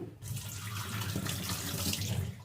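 Ponnaganti leafy greens being rinsed in water on a terrace, a steady continuous splash and trickle of running water heard close and alone throughout.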